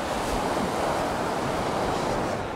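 The Fensch, a small river 15 km long, flows at its source with a continuous dense rushing of water, loud and close, partly mixed with wind buffeting and no voices.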